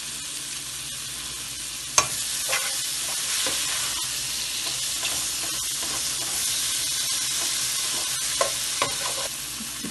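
Chicken curry ingredients fry in a pan with green chilies just added, giving a continuous close sizzle and hiss, with a few sharp clinks of stirring scattered through.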